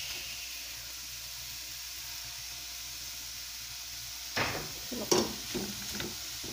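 Thinly sliced carrots and cabbage for spring rolls fry in a pan: a soft, steady sizzle with a hiss, then a few louder clatters and stirring scrapes near the end.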